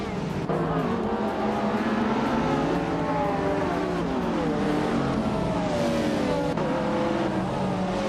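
Several race car engines in a racing video game at Spa Vintage, including a 2004 Porsche Carrera GT, roar together in a continuous loud drone with shifting pitches as the cars launch and accelerate from the start.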